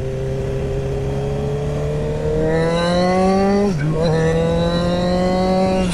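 A 2012 Honda CBR RR sport motorcycle engine revs and climbs in pitch as it accelerates, briefly dips in a gear change, then pulls up again, loud and close throughout.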